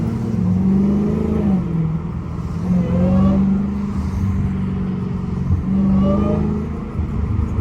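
A Dodge Charger's engine revs beside the listener in slow afternoon traffic, a loud, steady low rumble that swells and eases in several surges across the clip with no talking.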